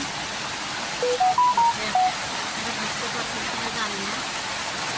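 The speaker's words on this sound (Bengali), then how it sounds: "আমার বাহিরে প্রচুর পরিমাণে বৃষ্টি হচ্ছে" Heavy rain falling outdoors, a broad steady hiss of downpour filling the scene throughout, with a brief spoken phrase near the start.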